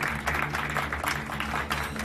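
Applause from an audience filling a theatre hall at the end of a performance, a dense steady wash of many hands clapping with no pauses, heard at a moderate distance.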